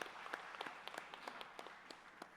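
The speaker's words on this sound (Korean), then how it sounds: "하나님께 영광의 박수 올려드립니다." Congregation clapping during a Korean church worship service, a faint, distant patter of applause with sharp individual claps standing out over a quiet hall, continuing steadily for a couple of seconds.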